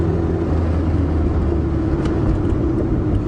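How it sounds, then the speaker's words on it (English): Car engine droning loudly from inside the cabin under heavy throttle in gear, a steady low rumble with engine speed slowly climbing, no voices. "Now the RPM start coming up."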